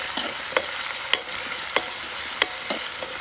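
Small onions fry in a pan for crab curry, a steady close sizzle broken by regular scraping stirs of a spoon, about one every half second.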